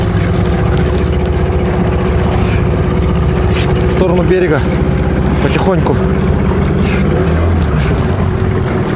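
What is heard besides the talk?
boat outboard motor running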